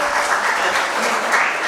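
Applause in a hall at a felicitation ceremony for doctors and chartered accountants, a short, loud and dense burst of clapping from a large audience.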